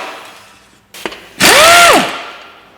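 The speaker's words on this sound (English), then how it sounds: "I'm just going to whack out all the 10mm bolts holding the sump on" A Ford Duratec 2-litre engine having its 10mm sump bolts removed: a brief tool clack, then a loud whirring power-tool burst with a rising and falling pitch, close up and without speech.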